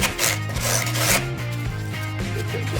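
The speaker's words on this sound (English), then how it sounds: "while I'm sanding the fiberglass profile, at the same time I'm forming the foam underneath" Sandpaper wrapped around a large dowel rasps back and forth over a fiberglass profile and the foam beneath it, making loud, close, rhythmic rubbing strokes on an RC surfer housing.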